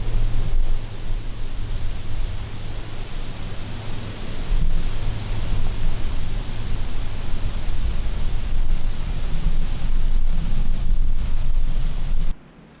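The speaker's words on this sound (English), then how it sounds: "It's really windy, so we'll have to stay on our toes." Strong wind buffets the microphone with a constant roaring rush and occasional gusts outdoors in Ohio, cutting off abruptly at the end.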